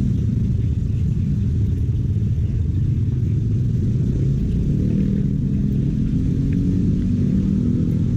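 Heavy, steady low rumble of dense city road traffic crawling through a congested school zone in Cimahi, with car and motorcycle engines blending into a continuous drone and no voices.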